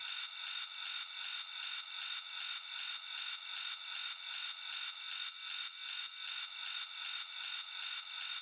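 Bright, shimmering metallic wash repeating in steady even pulses, a smooth, wide, open ride cymbal sample for hard techno with a long reverberant tail, loud and sustained with no low end.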